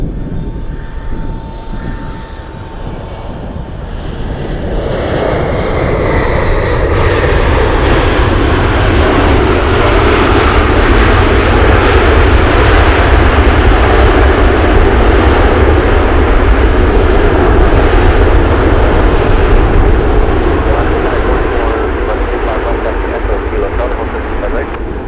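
An Atlas Air cargo jet arriving at Anchorage in gusty wind builds from a faint whine into a loud, sustained engine roar that holds for about twenty seconds before easing slightly.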